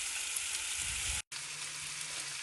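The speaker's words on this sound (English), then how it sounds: "So I'm just frying the other 2 and then I'm going to put it in the slow cooker." Beef cheeks frying in a pan give a steady, close sizzle that fills the whole clip, broken only by a brief silent gap near the middle before the hiss resumes.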